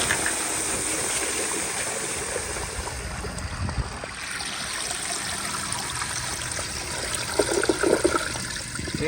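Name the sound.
Universal Rundle Colby urinal flushing at full pressure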